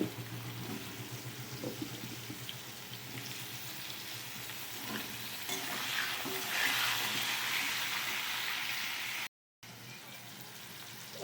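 Cut potatoes frying in hot oil with bay leaves and whole cumin seeds, a steady close sizzle with bursts of crackling and the scrape of stirring, briefly cutting out near the end.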